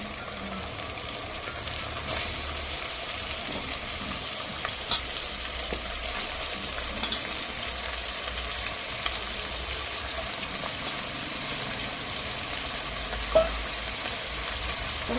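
Tender boneless mutton pieces fry in a pan for curry, giving a steady, even sizzle with a few faint clinks of stirring, close by and with no talk.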